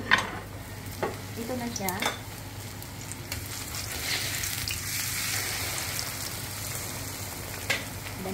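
Banana chips frying in hot oil give a steady broadband sizzle throughout, with a few sharp clicks and a brief stretch of nearby speech early on.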